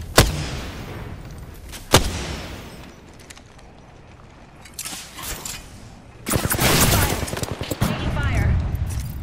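Gunfire in a squad shooter video game: two sharp isolated shots, then a lull, followed by dense sustained automatic fire that grows loud and continuous, with brief voice chatter mixed in.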